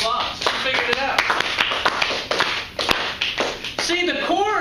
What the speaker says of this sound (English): Give Leah a big round of applause.